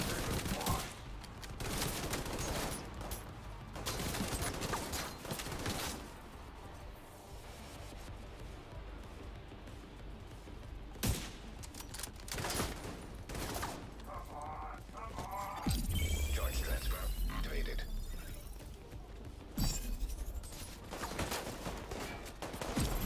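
Blind-fire gunshots in The Division 2, rapid bursts of gunfire with a spent-casing clatter and crashing impacts, loud and dense over game noise.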